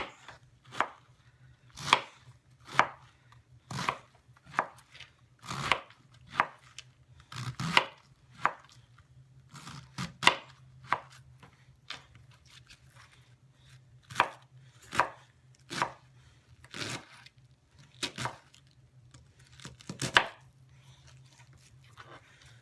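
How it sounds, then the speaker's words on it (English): A knife slices cabbage into thin coleslaw shreds on a cutting board, giving about twenty crisp crunching chops in an uneven steady rhythm over a faint low hum, close and with no voices. "And I'm just going to slice this up into thin coleslaw-y slices."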